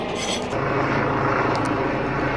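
A helicopter flies over a rural fruit orchard, its steady broadband rotor and engine rumble filling the scene continuously and fairly loud, with no voices heard.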